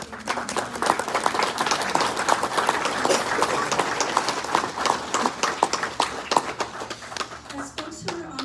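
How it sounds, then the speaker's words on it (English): Crowd applause at a New Mexico Missing Persons Day gathering, honoring attendees: many hands clapping with individual sharp claps standing out near the front, sustained for about eight seconds and gradually thinning toward the end. "let's give another big round of applause to everybody who joined us here"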